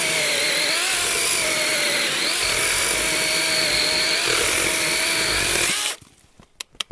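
A ProCraft cordless power saw whines steadily under load, its pitch sagging and wavering as it bogs down under pressure, then cuts off abruptly near the end, leaving a few faint clicks.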